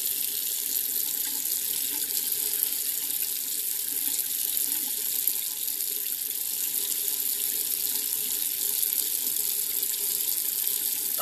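Warm tap water runs steadily into a sink while rinsing off a Senegence Golden Radiance peel-off face mask, a close, constant rushing splash with no talking.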